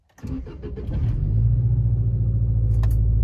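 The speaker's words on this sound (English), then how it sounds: "Let's see if the car will start today because it's been having a lot of issues." A car with a sensor fault, in a budget static camber build, cranks briefly and catches, then settles into a loud, steady, rumbling idle close by, with no talking.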